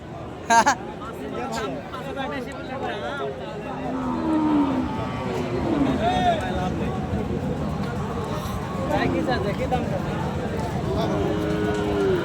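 Sahiwal bull cattle at a border-area village cattle market, with a few moos rising over a steady crowd hubbub and people talking nearby throughout.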